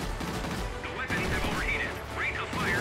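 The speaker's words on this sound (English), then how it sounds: "I do have the guns overheating there because I was engaging that previous target for so long" Machine guns on a Breda Ba.27 fighter plane fire in rapid continuous bursts in World of Warplanes, loud over engine drone, with someone talking over the action.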